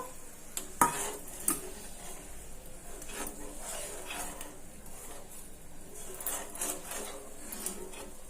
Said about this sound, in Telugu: ఈ విధంగా కలుపుతూనే ఉండాలి